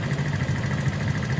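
A VIAR VSR 200 motorcycle engine runs roughly and steadily at idle, a close low thrumming with a faint squeaking edge continuing throughout.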